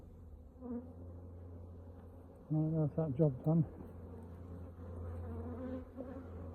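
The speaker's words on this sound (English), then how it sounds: "Good box of bees, that one." Close, dense humming of a small honey bee swarm in a poly nuc box at an apiary runs throughout, while someone speaks briefly in the middle of the clip.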